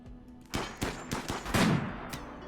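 Several sharp, loud sniper rifle shots in RimWorld, spaced irregularly over a couple of seconds, with no voices over them.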